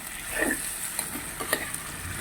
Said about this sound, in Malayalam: ജസ്റ്റ് നന്നായിട്ടൊന്ന് ഇളക്കി കൊടുക്കണം കേട്ടോ